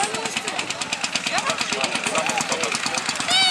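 A racing lawn mower's small engine chugs rapidly and steadily at the start of a tractor race in Wielowieś near Pakość, close and loud, with a rhythmic knocking beat under an announcer's voice.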